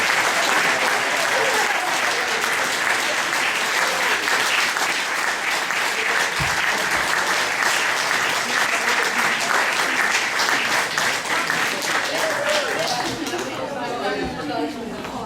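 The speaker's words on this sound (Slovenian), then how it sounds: "dajmo en velik aplavz" Sustained applause from a large crowd fills the room, steady and dense throughout, easing slightly toward the end.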